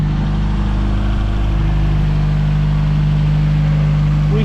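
Race car engine idling at about 1500 RPM on a cold start, a loud steady low drone with a constant hum, close and unbroken for the whole stretch.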